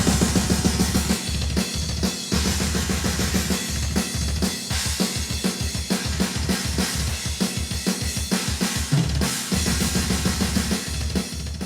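A full drum kit plays a steady groove, punchy kick and snare hits under gritty, distorted cymbals that wash across the whole mix.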